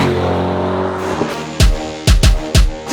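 A Chevrolet C8 Corvette accelerates hard up close, its engine droning loud and steady before abrupt shifts bring several sharp, booming bursts in quick succession.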